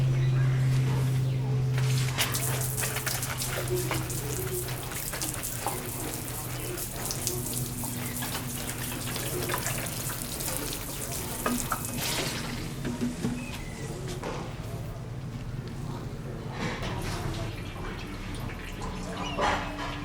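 Water from a watering can, mixed with Epsom salt, sprinkles steadily over young cherry tomato seedlings, a soft continuous splashing hiss that stays faint and is heard under a person talking.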